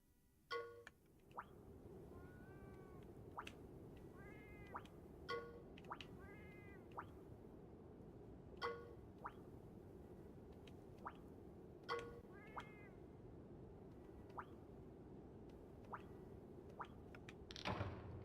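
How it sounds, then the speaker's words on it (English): Cat in a Link's Awakening DX randomizer game: a run of short synthesized meows and boing-like chirps recurs every second or two over a quiet hum, with a louder burst at the end. "cat is still present."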